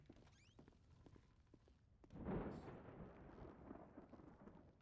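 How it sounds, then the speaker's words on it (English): Thunder in a GTA V roleplay game rolls in midway as a faint, far-off rumble that swells and lingers, with light rain-like patter and small clicks before and after. "you still hear the thunder cracking in here"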